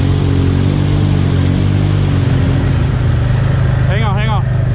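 A motorbike engine labours steadily in low gear, a loud, rough continuous drone with uneven revving, close to the microphone amid wind noise, with a brief whistle-like sweep near the end.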